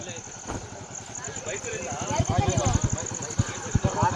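A motorcycle idles with a low, uneven chugging pulse that grows stronger and more rhythmic toward the end, running under people chatting nearby.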